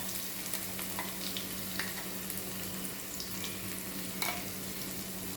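Fenugreek seeds, crushed ginger, green chili and garlic fry in oil for a bitter gourd pickle, giving an even, continuous sizzle with occasional light stirring clicks and a faint steady hum underneath.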